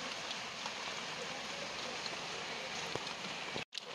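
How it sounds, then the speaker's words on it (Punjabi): Heavy rain pours down in a dense, continuous hiss of drops striking surfaces, with a brief cut-out just before the end. "ਬਾਰਿਸ਼ ਜਿਹੜੀ ਨਾ ਕਾਫੀ ਜ਼ਿਆਦਾ ਆ ਰਹੀ ਆ"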